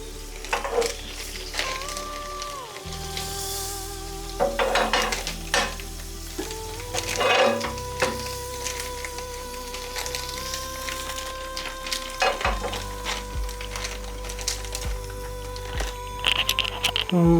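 Kottu cooking in a busy kitchen, oil sizzling on a hot griddle amid clanking metal, scraping and steady background hum, with tonal beeps and whines over the top.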